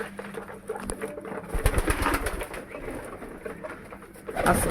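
Pigeons in a home loft coo in low, throaty phrases at close range, several overlapping calls with soft fluttering and shuffling around them.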